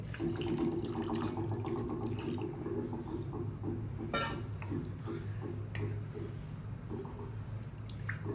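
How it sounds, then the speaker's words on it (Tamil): Water is poured into frying masala for dried shark fish thokku, making a soft, steady trickling and splashing at close range with faint kitchen clatter and no talk. "இப்போ நீங்கள் இது கூட தண்ணி சேர்த்துக்கோங்க"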